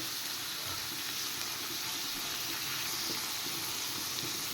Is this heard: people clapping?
no